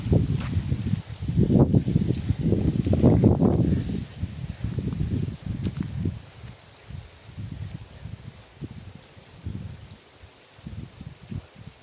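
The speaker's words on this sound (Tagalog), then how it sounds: "lumakas yung hangin dito ah" Gusty wind buffets and roars across the microphone in strong bursts, loudest early on, then easing into softer, intermittent rustling gusts.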